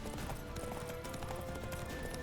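Horse hooves clip-clop at a steady gallop in The Witcher 3, a busy run of hoofbeats heard through a dense game mix with faint talk over it, plus a brief whinny.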